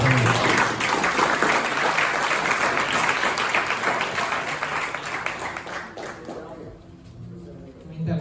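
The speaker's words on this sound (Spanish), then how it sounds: "Un aplauso a Dios por la palabra" A church congregation applauds in praise, a loud, dense clapping wash that swells and then fades out near the end, with some voices mixed in.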